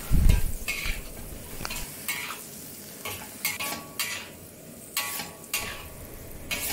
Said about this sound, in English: Keep stir frying over high heat and sear the lettuce on the surface of the wok.